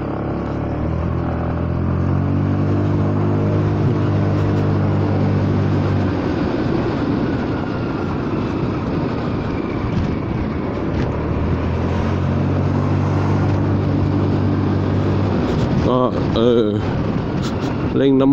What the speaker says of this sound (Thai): เร่งน้ำมันเพิ่มมาแล้ว